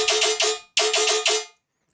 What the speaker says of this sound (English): We have the tonal layer that sounds like this.